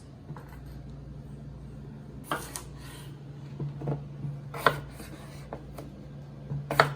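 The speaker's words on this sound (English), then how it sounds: "I'm going to slice for salads." A knife slicing vegetables on a board for a salad of tomato, scallion, cilantro and potato, with scattered sharp cuts and scraping over a low steady hum.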